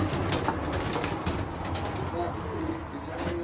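Birmingham roller pigeons in a loft, with soft cooing and occasional wing flaps over a steady murmur of birds close by, and someone speaking now and then.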